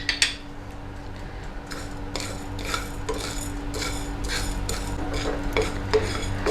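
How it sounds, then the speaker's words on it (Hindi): Whole coriander seeds, cumin and black pepper dry roasted in a pan, with a utensil stirring and scraping in short repeated strokes over a steady low hum, close and moderately loud with no voices. "धनिया, ज़ीरा और काली मिर्च को हम ड्राई रोस्ट कर लेंगे।"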